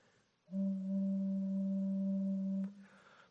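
A single steady metal flue pipe of a pipe organ sounds for about two seconds, pure and flute-like, starting and stopping cleanly in a quiet room.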